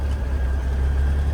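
A truck engine idling as it warms up, a steady, loud low rumble heard close with no talk over it.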